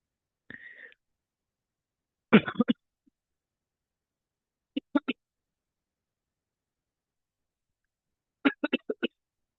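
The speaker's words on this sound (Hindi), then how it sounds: "मुझे खांसी हो रही है काफी ज्यादा ना" A few short, harsh coughs come in separate bursts with quiet gaps between them, close to the listener.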